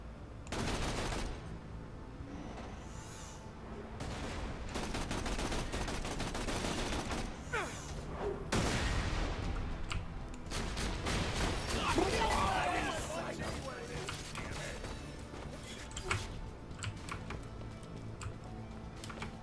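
Automated gun turret firing in Borderlands 2, rapid bursts of gunfire and explosive blasts filling the stretch, with chaotic combat noise and a voice talking over it.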